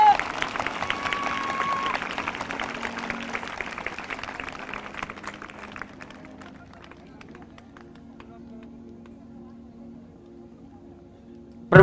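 Congregation applause at a church prayer service welcoming first-time and online newcomers, a dense crowd wash that fades after about six seconds into quieter room sound.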